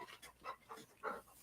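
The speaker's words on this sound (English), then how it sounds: "Basil, you can't keep barking, hon." A dog pants and gives soft, muffled whimpering barks indoors, four short bursts spaced through a quiet background with no talking.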